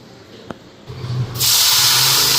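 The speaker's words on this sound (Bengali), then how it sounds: "এদিকে তেল গরম হয়ে গেছে, কালো জিরা সম্বাদ দিলাম" Nigella seeds dropped into hot oil in a kadai for a chicken wings dish, bursting into a loud, steady hissing sizzle after a brief tap and rising rumble, close and alone.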